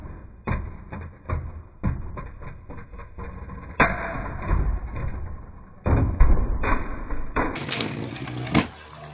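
Storm Capricorn and Storm Pegasus Beyblade spinning tops clash in a stadium with repeated sharp clacks, knocks and thuds in irregular bursts, loud and close, ending in a brighter scraping rattle.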